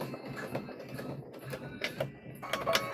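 Home sewing machine back-stitching a fabric strap on a trick-or-treat bag, short bursts of close mechanical whirring that stop and start, reversing direction, with light handling noise between runs.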